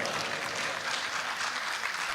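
Audience applause at a Delhi mushaira and kavi sammelan, a steady, dense wash of clapping from a crowd that holds at an even level for a couple of seconds without any voices over it.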